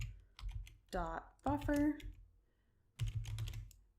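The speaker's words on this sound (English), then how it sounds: "I'm going to start typing in here" Formula text typed on a computer keyboard in a data-cleaning session, bursts of key clicks interleaved with a person talking close to the microphone.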